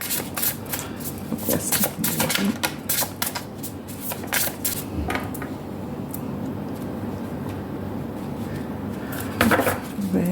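Tarot cards are shuffled and drawn, giving quick papery riffles and flicks close by in irregular bursts, a louder flurry near the end, with a brief spoken remark.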